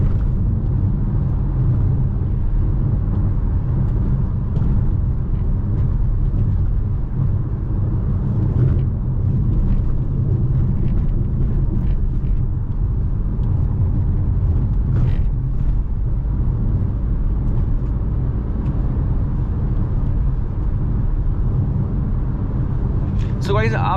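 Inside a Citroen C3 Aircross on the highway, a continuous low road and tyre rumble with steady cabin drone, broken by occasional faint creaks and knocks.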